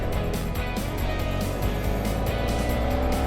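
A motorcycle on a mountain road in the Sierra Nevada climbs a tight, steep uphill bend in first gear, its engine droning loud and close with shifting revs throughout.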